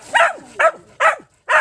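Hunting dogs bark in the mountains, four loud, evenly spaced barks close by with short pauses between them.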